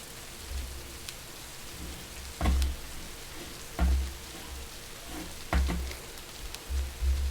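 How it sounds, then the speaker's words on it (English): Steady rain hisses down in the survival game Rising World, a constant wash broken every second or so by low, thudding rumbles of thunder, with no voices. "I guess the rain's not going to go away."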